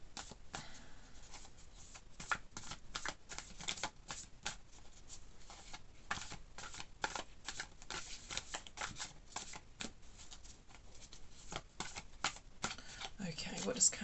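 Tarot cards being shuffled close up, a steady run of quick crisp riffling flicks repeating throughout, with quiet talk at times.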